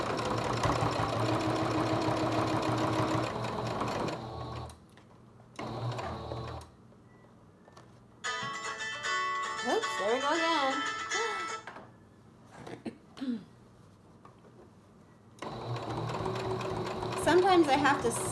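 A sewing machine straight-stitching a fabric face mask runs in loud, steady bursts of whirring, stopping and starting several times with short quiet pauses between runs.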